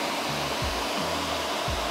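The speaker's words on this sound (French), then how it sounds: "la station de recharge vient de vider le compartiment à saleté du SwitchBot S10" SwitchBot S10 robot vacuum charging station emptying the dust compartment: a steady, loud whooshing suction roar like a hair dryer, with low humming pulses and two short swells, and no talking.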